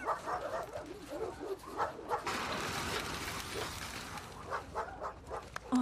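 A dog in the video game The Last of Us Part II yips, whimpers and barks excitedly in short bursts at close range, with brief voice sounds mixed in.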